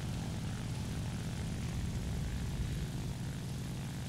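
A fixed-wing propeller plane's engine drones steadily and loudly throughout in the War Thunder combat flight game, a constant low, heavy hum with no variation and no voices.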